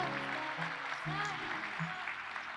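Audience applause at a Python Software Foundation awards session: steady broadband clapping throughout, with a voice speaking briefly over it.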